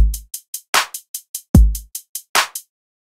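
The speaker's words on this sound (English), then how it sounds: "this is just a simple beat" A simple drum beat programmed in FL Studio: booming deep 808 kicks with long low tails, sharp snare hits and steady ticking hi-hats in a crisp, dry loop.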